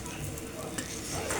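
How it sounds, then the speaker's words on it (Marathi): Masala bhindi is stirred in a kadhai, with a spoon scraping through the okra over a continuous soft sizzle. "तर जरा आपण हे हलवून घेऊया"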